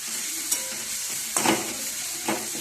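Garlic, ginger, green chili and coriander paste sautés in oil, a dense steady hiss with a few soft scraping stirs of the spoon.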